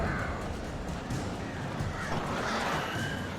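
A flock of crows attacks in the video game Alan Wake Remastered, a dense wash of cawing and flapping noise that sounds steady, close and fairly loud, with no talk over it.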